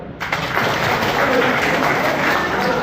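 Audience clapping at a street vendors' committee meeting in Chintamani, a steady dense wash of applause from a crowd filling the space, loud and continuous after a brief quieter start.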